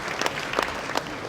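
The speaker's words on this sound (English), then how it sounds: "Teachers, give yourselves a round of applause, because not everybody does that." A group of teachers at a school exhibition opening claps for themselves, a brief burst of sparse, distinct handclaps close by, without speech.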